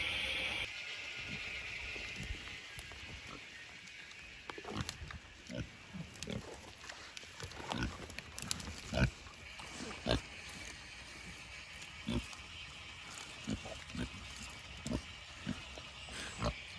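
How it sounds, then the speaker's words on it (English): Soft, irregular snorting grunts from a snoring pig at close range, recurring in uneven bursts over a steady background hiss. "I came up to check on the pigs. There's one of them actually snoring."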